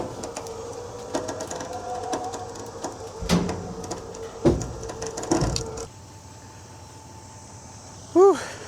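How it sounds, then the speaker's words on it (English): A trailer winch strains to pull a heavy truck up onto a trailer, a labored mechanical grinding with several sharp clanks and knocks, ending in a quieter steady hum and a brief squeal. "My winch is grunting big time on this one."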